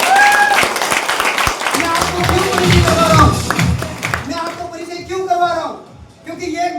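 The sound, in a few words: audience applause at speech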